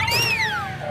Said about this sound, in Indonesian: Wah, ada kucing Tom. Mainan kucing Tom teman-teman